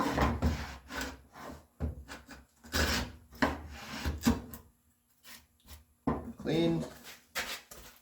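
Hand tools cut a dado across walnut boards for bookcase shelves, giving repeated rasping, scraping wooden strokes of varying length with short pauses between them.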